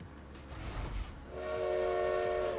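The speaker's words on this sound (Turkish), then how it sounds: "Tren geliyor şimdi, Allah kahretmesin." A train horn sounds in the Forza Horizon 4 racing game during a trail race, rising from engine rumble into a loud, sustained multi-tone blast held to the end.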